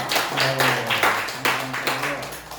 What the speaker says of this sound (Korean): 우리 박수로 한번 축복합니다